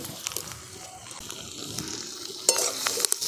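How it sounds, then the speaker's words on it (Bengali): Onions sizzle and crackle steadily in a hot pan, with a few sharper pops and stirring scrapes near the end. "এরপর পেঁয়াজগুলোকে আমি ভেজে নিচ্ছি"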